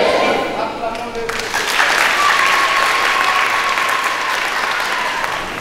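A church congregation at a Catholic Mass in the parish of St. Frédéric bursts into loud, sustained applause acclaiming Jesus. The clapping fills the room as a dense wash, with voices mixed in.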